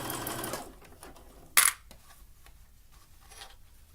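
A sewing machine runs in a short burst while stitching stretched elastic into swimsuit fabric, followed by a sharp click and quieter handling noises, all fairly faint.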